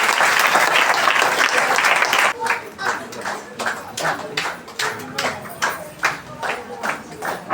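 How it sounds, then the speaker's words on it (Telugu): A crowd claps loudly in welcome at a felicitation event for newly elected sarpanch committee members with Christmas greetings, dense applause that thins into scattered individual claps after a couple of seconds. "చప్పట్లతో వారికి స్వాగతం పలుకుదాం."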